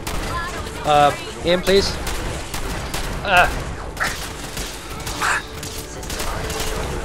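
A shotgun firing in Fallout 4, a string of sharp blasts spread unevenly across several seconds amid gunfire and combat noise, with someone talking between shots.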